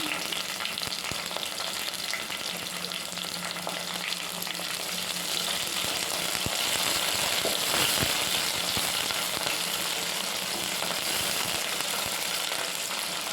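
Coriander and curry leaves fry in a hot pan, a steady crackling sizzle with occasional sharper pops and stirring clicks, moderately quiet and unbroken, no one speaking.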